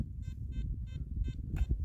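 A series of five short electronic beeps, evenly spaced, each a bright harmonic tone over steady low rumbling background noise.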